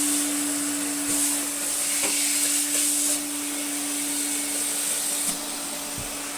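A restored Hoover Constellation 858 vacuum cleaner running steadily nearby, a continuous airy whine with a constant motor hum, plus a few faint clicks and small bumps.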